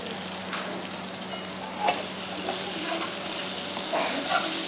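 Chicken stir-fried in a pan with spring onions, a steady close sizzle and crackle throughout with brief louder bursts as the pieces are tossed and stirred.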